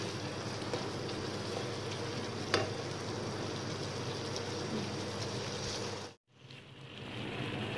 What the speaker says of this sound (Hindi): इसको अच्छी तरह से भून लूंगी।